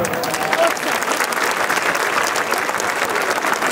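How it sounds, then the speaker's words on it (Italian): Folk festival audience on a stage in Fonni, Sardinia breaks into sustained, dense applause, steady and loud across the whole stretch with a crowd murmur underneath. "E noi il primo applauso lo vogliamo dedicare agli amici che arrivano dalla Spagna"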